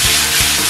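Beef tossed into a wok with celery and chilli, a loud hiss of frying with two heavy scraping strokes of the spatula, brief and close.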